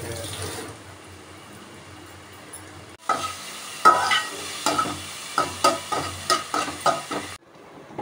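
Chopped onions with salt sautéing in a pan, a quiet sizzle at first, then a spatula stirring in a lively rhythm of about a dozen scraping, clattering strokes over steady frying, no talking.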